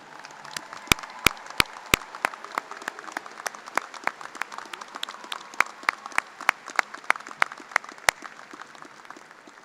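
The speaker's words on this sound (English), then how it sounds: "graduate students, please acknowledge with a round of applause the graduate faculty who supported you" Graduation audience at a spring graduate school commencement applauds the graduate faculty, a dense steady wash of many hands clapping with a few sharp, close claps standing out early, sustained for the full stretch.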